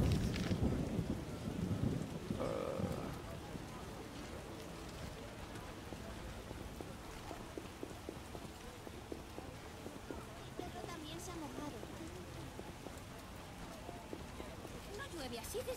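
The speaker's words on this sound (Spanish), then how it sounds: "No llueve así desde hace mucho tiempo." Steady rain and a rumbling thunderstorm in the video game The Witcher, with a heavy thunder roll at the start fading into continuous rainfall, faint voices murmuring underneath.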